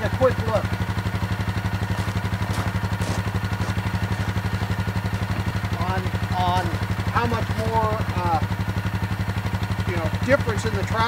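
A Suzuki King Quad 750 ATV engine idling up close, with a loud, steady, rhythmic low thrum that runs throughout while someone talks over it.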